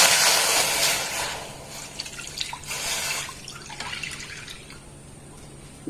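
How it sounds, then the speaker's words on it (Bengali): A cup of liquid milk pours into a pan set on a lit gas stove, giving a soft, steady splashing and trickling stream that fades slightly toward the end. "এর মধ্যে দিয়ে দেবো 1 কাপ লিকুইড দুধ।"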